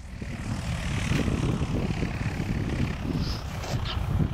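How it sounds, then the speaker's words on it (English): A propeller airplane coming in to land at an airpark drones loudly and steadily nearby, its low engine rumble filling the whole stretch without pause. "There's a plane right now."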